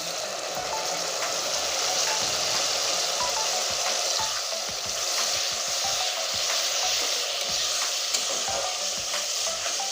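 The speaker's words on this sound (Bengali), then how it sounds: "এবার অল্প পরিমাণ গরম জল দিয়ে দিচ্ছি" Sizzling spice masala for a chicken curry with potatoes in a thin gravy, hot water being poured in, making a steady, loud, close frying hiss with stirring clatter throughout and no talk.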